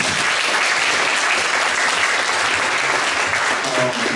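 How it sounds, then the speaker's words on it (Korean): A room full of people at a men's lecture session gives sustained, dense applause, loud and even throughout with no break. "우리 박수 한번 주세요."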